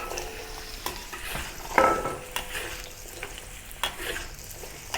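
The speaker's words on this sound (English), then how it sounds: "Add some oil in the wok, turn it to medium heat, and then put the taro inside." Taro pieces fry in oil in a wok over medium heat, giving a continuous close sizzle with scattered crackles and occasional utensil scrapes, steady throughout and without speech.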